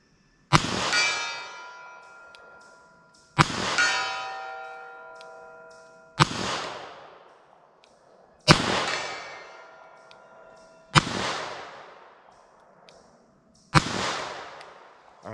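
Six loud .38 Super-Police revolver shots, each a sharp crack with a ringing tail that decays over a couple of seconds, spaced roughly three seconds apart in an outdoor setting.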